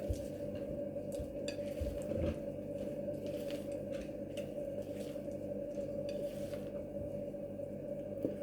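Cake batter being given a final stir in a mixing bowl, soft squishy wet mixing with light scraping of a utensil against the bowl, steady and close, no talk.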